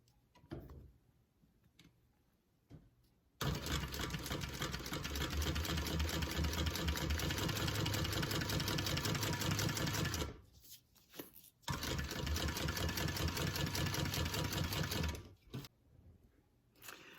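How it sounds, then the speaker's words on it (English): A sewing machine top stitches across the top edge of a fabric pocket, running steadily in two long bursts of close, loud stitching with a brief pause between them and quiet handling before and after. "we're going to do a top stitch across the very top here"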